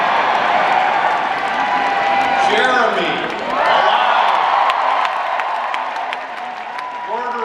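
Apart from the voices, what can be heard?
audience applauding and cheering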